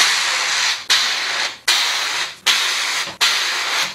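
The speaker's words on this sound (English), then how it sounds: "I like to use my blender, hand blender, to break the rice into little particles" A hand blender whirs continuously while breaking up rice in a pot for fermented rice water, running in four or five loud bursts with brief pauses between them, close up with no talk.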